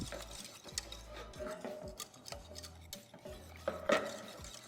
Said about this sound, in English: I'm whisking it until there's nothing there, basically. No chunks, no clumps of matcha.